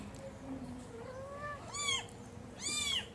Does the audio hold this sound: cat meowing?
yes